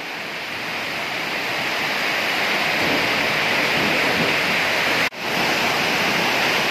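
A heavy rain storm with strong wind pours down in a dense, steady roar that fills the whole stretch close by, broken only by a brief dip near the end, with no voices.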